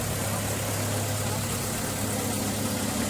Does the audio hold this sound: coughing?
no